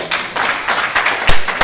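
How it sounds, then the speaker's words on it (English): A church congregation clapping their hands together, a dense patter of claps swelling and fading over a steady roomy background, moderately loud with no clear voices. "Give them a hand clap."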